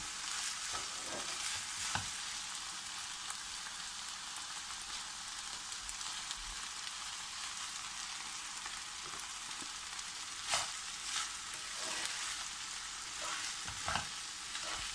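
Cooked rice tossed and stir-fried in a pan over a high flame for egg fried rice, a steady close crackling sizzle throughout with occasional louder scrapes and clanks of the spatula.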